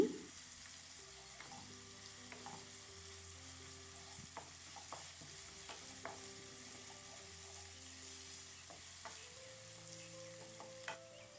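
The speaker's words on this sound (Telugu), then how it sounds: "దోరగా ఫ్రై అవుతున్న ఎరగడ్డలోకి ఒక స్పూన్ అల్లం వెల్లు పేస్ట్ వేసుకుని పచ్చివాసన పోయేంత వరకు ఫ్రై చేసుకోవాలి" Sliced onions frying with a spoonful of ginger-garlic paste for capsicum rice give a steady, quiet sizzle, broken by occasional scrapes of a stirring spoon against the pan.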